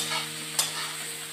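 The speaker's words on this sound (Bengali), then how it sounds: "দেখতে পাচ্ছ পেঁয়াজটা ভাজা হয়ে গেছে।" Onions frying in white oil give a steady, close hiss with a single sharp scrape or spatter near the middle, loud and continuous over a brief stretch.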